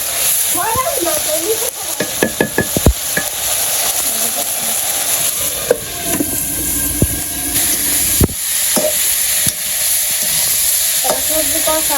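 Vegetables for a cauliflower and rohu fish curry sautéed and stirred in a pan over a village kitchen fire, a steady loud sizzle with sharp clinking scrapes of a spatula early on and occasional knocks.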